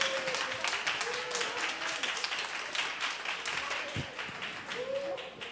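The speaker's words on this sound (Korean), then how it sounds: "들어갈 때 크게 박수 한번 쳐주세요" A church congregation claps during a Sunday service, a steady wash of applause that runs on under occasional voices.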